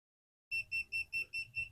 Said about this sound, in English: Now the device is beeping because it rebooted